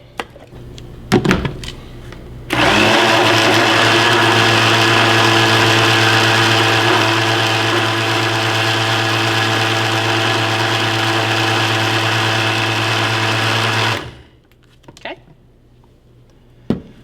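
A kitchen blender runs at a steady loud whir for about eleven seconds, starting abruptly and cutting off sharply, with brief handling clatter before and after.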